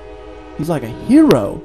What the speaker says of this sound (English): If you can hear it, that's a train.